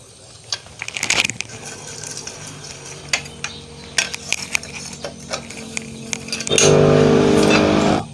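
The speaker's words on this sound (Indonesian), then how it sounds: "Lalu kita kencangkan bautnya" A hand tool tightens a bolt on a Honda Supra motorcycle clutch during a clutch plate replacement: scattered close metallic clicks, taps and scrapes, ending in a louder rough rasping burst, with no talking.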